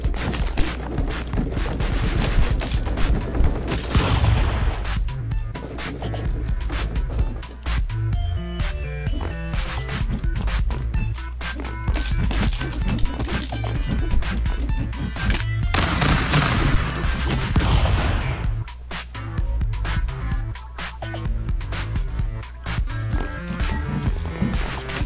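Rapid gunfire from a worm gun in the Stick Fight video game, a dense, loud barrage of bursts and booms that runs almost continuously for the whole stretch with no talk.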